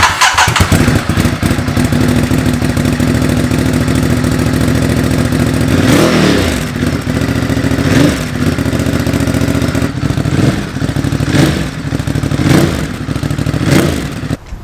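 A Ducati Monster 937 motorcycle engine with a Termignoni exhaust cranks and fires up, then idles loudly with several sharp revs blipping at intervals, close by.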